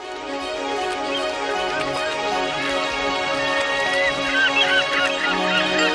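A large flock of flamingos and other birds at Lake Bogoria honks and calls continuously, a dense overlapping chorus that holds steady at moderate loudness, with no voices.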